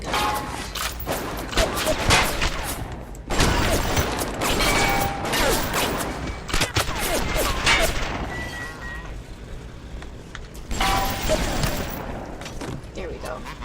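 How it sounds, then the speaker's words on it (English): Gunfire bursts in Bioshock arrive in dense, loud volleys with mechanical clatter, separated by brief lulls across the stretch, and a player's voice is intermittently audible. "I want to use my machine gun."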